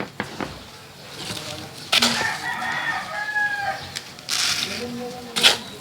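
Breeder roosters crow close by, several drawn-out calls in a row with clucking around them, and someone talks quietly in the background.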